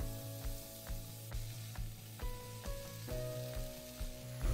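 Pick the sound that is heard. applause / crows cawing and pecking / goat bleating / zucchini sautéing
zucchini sautéing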